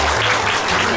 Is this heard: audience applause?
yes